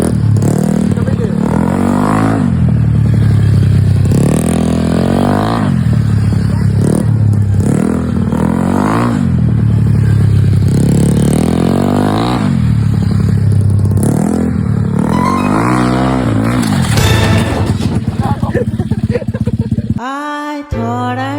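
A motorcycle at a practice circuit in Antipolo revs its engine through repeated throttle blips, rising and falling pitch sweeps running loud and continuous across the whole stretch, with a voice talking over it before a brief stop near the end.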